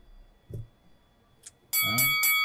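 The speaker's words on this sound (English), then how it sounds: "There's the bell." A bell signals the end of a speaking turn in a debate about a video game; after two faint taps, a loud ringing bell sounds in two quick bursts near the end.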